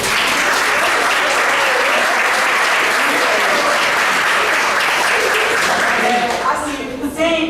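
An audience at a church anniversary gathering claps for a team in loud, dense, sustained applause that tapers off near the end.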